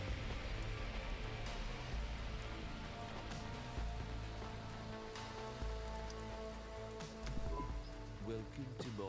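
Steady rain pours in the Cloudpunk video game, a dense continuous hiss lasting throughout, with faint game music and scattered clicks mixed beneath it.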